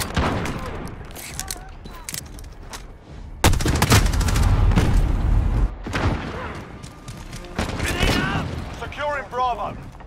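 Heavy gunfire in Call of Duty: Modern Warfare, with dense automatic bursts, booming impacts and explosions in a loud, continuous battle, while voices shout over the fighting.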